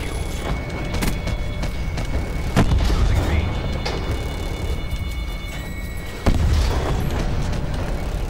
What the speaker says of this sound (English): Your gunship has been destroyed.